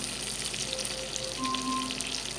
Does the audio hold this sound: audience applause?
no